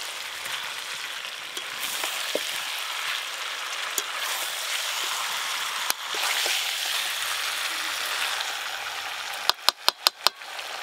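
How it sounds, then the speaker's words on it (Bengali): Chicken sizzles steadily with spices in a pan for a home-style chicken curry, a continuous close frying hiss with occasional stirring clinks and a quick burst of sharp taps near the end. "আগে মশলার সাথে আরেকটু ভালো করে কষবো"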